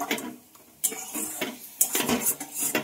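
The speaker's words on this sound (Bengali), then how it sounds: "জলটা দিয়ে একটু ভালোভাবে এইভাবে মিশিয়ে নিতে হবে।" Utensil stirring water into pointed gourd in a metal pan, with irregular clinks and scrapes of spoon against pan, fairly close and clear, no talking.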